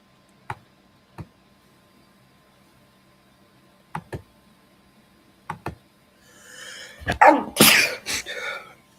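A person sneezes loudly and close by, a sharp burst that follows a few scattered faint clicks in an otherwise quiet room.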